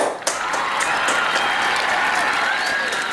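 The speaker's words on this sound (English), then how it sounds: "let's give a round of applause for the tree" Clapping at home for a decorated Christmas tree: a short, bright burst of applause from a small group, close and steady for a few seconds with no voices.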